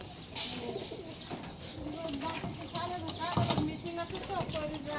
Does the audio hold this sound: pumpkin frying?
no